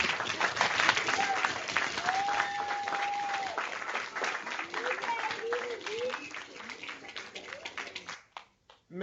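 Students applauding for former pro football player Tom Mack at a Hall of Fame event, a sustained roll of many hands clapping with a few whistles and cheers, steady for most of the time before dropping off abruptly near the end.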